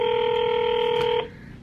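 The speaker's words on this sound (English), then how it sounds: "So now I'm calling the police department to get the incident report number" Telephone dialing tones on a call to a police department: one loud, steady dual-tone beep lasting about a second, then it cuts off leaving quiet line hiss.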